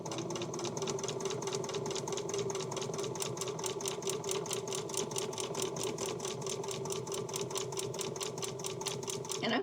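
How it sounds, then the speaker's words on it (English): Sewing machine stitching a log cabin quilt block, running steadily at a slow pace with a fast, even mechanical rattle throughout, close and clear with no talking. "I'm going to start sewing."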